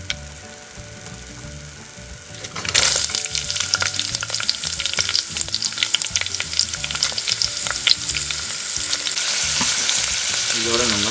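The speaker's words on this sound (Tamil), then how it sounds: "இதில் வந்து நம்ம ஏற்கனவே கட் பண்ணி வச்சுருந்தா ஆனியன் ஆட் பண்ண போகிறோம்." Chopped onions hit hot oil in a pan for roadside-style salna, and the soft frying swells into a loud, steady sizzle with occasional stirring scrapes, alone and close up.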